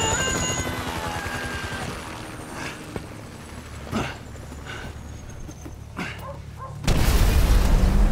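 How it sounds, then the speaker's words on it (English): A helicopter circles in Grand Theft Auto 5 gameplay, its rotor chopping in a rhythmic pulse. Sharp booms and impacts sound over it, and a loud burst of noise closes the sequence. "Can you hear that? Chopper! Incoming!"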